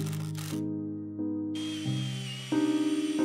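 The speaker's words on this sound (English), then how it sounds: "For this, I simply use screws because they are easy and reversible." Cordless drill driving screws into wood for a reversible pre-assembly, with several short whirring bursts at changing speeds close by.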